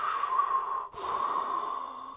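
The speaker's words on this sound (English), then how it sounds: "a lot of that breathing in a spacesuit effect we came to love in 2001 A Space" Heavy breathing inside a spacesuit, a close, hissy inhale-exhale cycle with a brief break partway through, alone and without talk.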